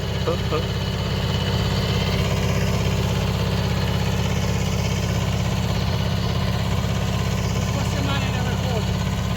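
A tractor engine idles steadily and loudly throughout, a constant low rumbling drone with vibration.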